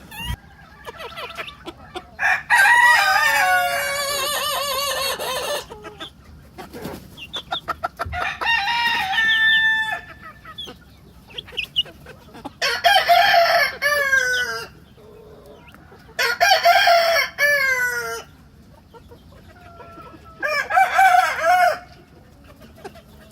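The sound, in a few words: Denizli longcrower rooster crowing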